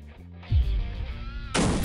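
Heavy booming bomb explosions in Garry's Mod with a deep rumbling blast, followed by a sharp loud burst of noise, with no voices.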